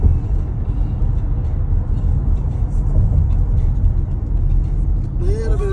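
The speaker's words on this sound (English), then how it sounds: "We're driving north to the Bronx." Car driving through New York City traffic heading north toward the Bronx, a steady loud low engine and road rumble throughout, with a brief rising whine near the end.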